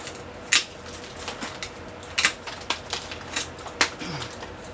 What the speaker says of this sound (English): Okay, I'm going to start chopping roots.